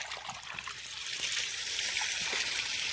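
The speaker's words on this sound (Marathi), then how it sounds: "म्हणून आता मी इथं पाणी खोललंय मोकळं." Water gushing and trickling steadily from an opened rain pipe outlet in a farm field, carrying dirty pond water, a continuous close hiss and splatter that builds slightly louder over a few seconds.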